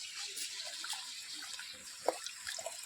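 Pumpkin being washed under a running kitchen tap, faint close splashing and trickling water with a few small drips and knocks, no talking.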